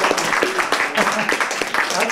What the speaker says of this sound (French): applaudissez le dernier Roger